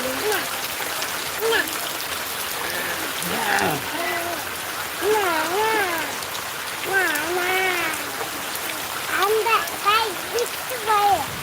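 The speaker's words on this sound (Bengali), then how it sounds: "বৃষ্টি পড়তেছে" Heavy morning rain pouring down, a dense steady hiss of drops on surfaces, with people talking over it throughout.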